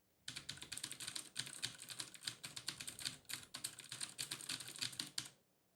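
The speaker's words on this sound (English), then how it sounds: "I want you to tell me which one you hear the typing sounds more" Rapid, steady typing on a computer keyboard, a continuous patter of clicking keys heard alone, fairly close and clear.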